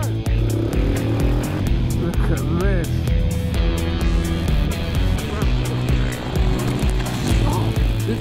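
Kawasaki Ninja H2 SX SE sport-tourer from 2019, ridden at full power: a loud, continuous, steady engine roar with wind noise, held throughout without break.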